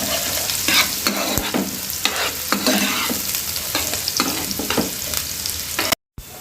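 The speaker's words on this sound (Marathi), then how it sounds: "आणि चांगलं लालसर होईपर्यंत आपण मिक्स करूया।" Onion frying in oil for vermicelli upma while a spoon stirs it, a loud continuous sizzle broken by rhythmic scraping strokes, cutting out briefly near the end.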